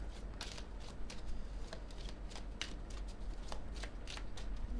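Tarot cards handled and laid one over another during a reading, a steady run of soft papery slides and flicks at close range with no voices.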